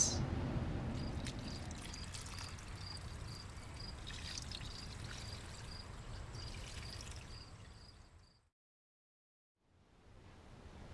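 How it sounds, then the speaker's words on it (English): Garden plants being watered with a spray of water on fertilized beds, a steady broadband hiss with faint trickling, alone for about eight seconds, then a short break before the flow resumes. "Let's go water the plants."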